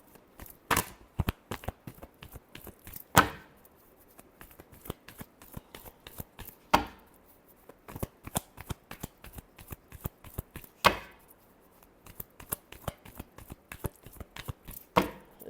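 Tarot cards are shuffled by hand in a series of soft, papery riffles and a few sharper bursts at intervals, broken up by quick taps and slaps of the deck, close and quiet, without any voice.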